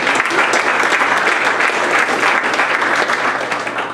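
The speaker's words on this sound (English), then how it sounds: "So let's give all those folks a round of applause." A crowd applauds at a community gathering in Arcata, dense sustained clapping that holds steady for several seconds before tapering slightly at the end, with no voices over it.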